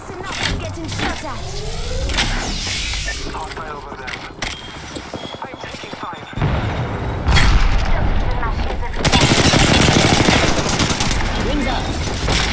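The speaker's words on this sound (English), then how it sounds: "Listen up, I'm getting shot at." Rapid gunfire from Apex Legends gameplay: dense bursts of automatic shots with booming impacts, loud and continuous throughout, heaviest in the second half, with game voice lines and chatter mixed in.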